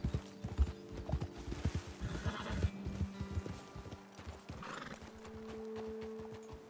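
Horses in the Red Dead Redemption 2 video game clatter along in a steady, close hoofbeat rhythm, with several loud whinnies and snorts rising above the galloping.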